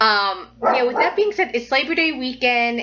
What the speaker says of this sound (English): You're going to be hearing dogs barking